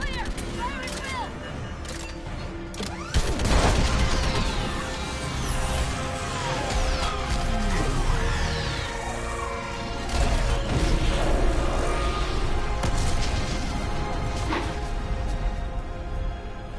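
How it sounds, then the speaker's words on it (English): Orbital strike explosions slam into a live Reaper in Mass Effect 3, a heavy crash breaking out a few seconds in, then sustained rumbling blasts and debris layered under game music and talking voices. "I need an orbital strike!"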